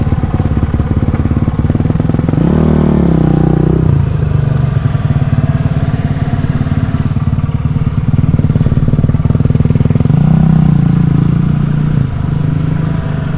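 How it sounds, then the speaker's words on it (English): A BMW F650 Dakar motorcycle engine runs loud and close, a continuous rough drone that twice revs up briefly before settling back, with no talking. "We are on the BMW F650 Dakar."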